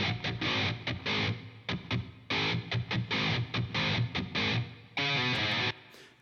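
Distorted electric guitar played through a different amp model, choppy palm-muted chugs and short stabs in a stop-start rhythm, ending on a sustained ringing chord, solo and up front.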